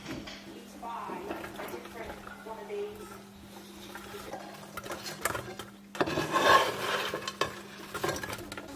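Sausages with frozen vegetables, onions, peppers and curry powder sizzle in a pan while a utensil scrapes and stirs, getting louder partway through, with people talking over it.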